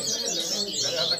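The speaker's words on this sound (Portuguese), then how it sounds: "Ó, soltando os cantinhos." A papa-capim (seedeater) songbird sings from a cage, a quick bright run of chirps and trills heard up close for a moment, with faint background noise.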